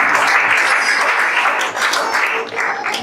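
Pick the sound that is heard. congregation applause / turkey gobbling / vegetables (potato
congregation applause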